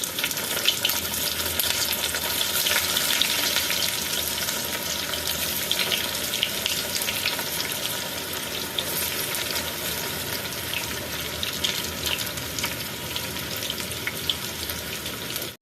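A second batch of bitter gourd frying in oil, a dense, steady hiss and crackle like running water, close and continuous with no talking.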